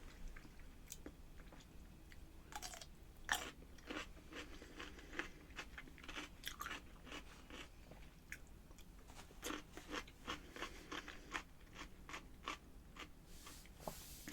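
Garlic baby dill pickles, lower-salt, being bitten and chewed close up, giving repeated crisp crunches and wet chewing clicks in an irregular rhythm, quiet overall with no talking.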